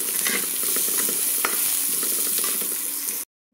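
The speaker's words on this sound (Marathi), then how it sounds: "कांदा भाजणं चाललेलं आहे" Onion roasting in a pan sizzles and crackles steadily and close by, with faint stirring scrapes, and no talk. It stops abruptly just before the end.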